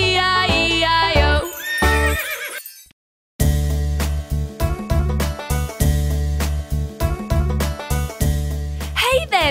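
A cartoon horse in a children's Old MacDonald nursery rhyme neighs in loud, shaky whinnies, overlapping sung music before and after a brief silent gap.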